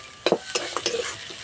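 Spatula stirring a vegetable filling for pocket paratha in a frying pan, a few scraping strokes close by with a soft sizzle underneath, no talking.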